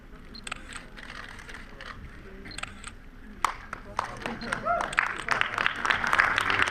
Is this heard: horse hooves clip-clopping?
no